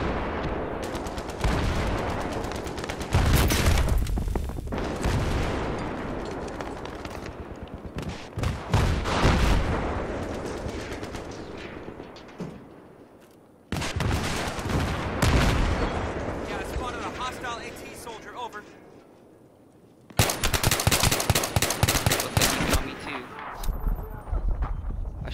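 Rapid bursts of gunfire in Battlefield 3 come in repeated volleys across the whole stretch, loud and close, with short lulls and a sharp final barrage.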